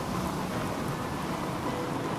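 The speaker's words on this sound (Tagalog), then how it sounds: "Halika na, umuulan na. Umuulan na." Steady, dense rain pours down close by as an unbroken hiss, with a low rumble underneath that suggests distant thunder. No voices are heard.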